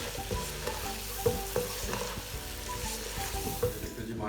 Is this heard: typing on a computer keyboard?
no